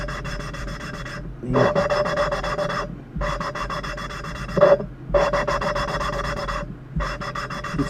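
Valves being lapped on a Ford 3.8 engine give a close, rhythmic rasping grind, with several repeated back-and-forth strokes separated by short pauses. A voice briefly speaks once.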